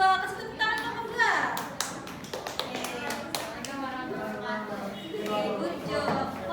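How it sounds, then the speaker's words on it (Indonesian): A classroom of students claps for a group presentation, scattered and uneven at first and then settling into a run of quick taps, while a teacher's voice carries over the top. "Kasih tepuk tangan kelompok 2."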